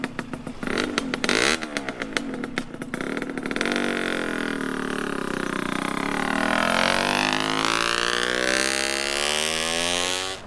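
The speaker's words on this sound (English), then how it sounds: "I wanted to bring the bike out and start it up so you could hear it" A 1996 Honda Nova Dash 125 two-stroke motorcycle fitted with a full titanium WRC exhaust starts with a clattery, popping burst, then settles into a loud, buzzing idle that rises and falls in pitch as the throttle is blipped, close up with no talking.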